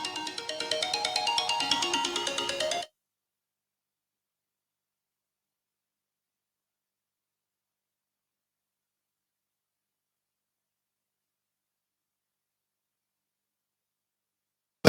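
A phone ringtone plays loudly for about three seconds as a call is placed, then cuts off into silence for the rest of the stretch, with a brief sharp sound at the very end.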